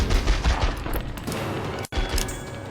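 Gunfire fills the video game The X-Files: Resist or Serve: loud, rapid shots crackle in a steady burst, with a brief break partway through and no speech.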